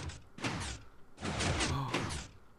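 A video game door opens and closes and then resets itself, giving a few broad, muffled sliding and thudding bursts over about two and a half seconds.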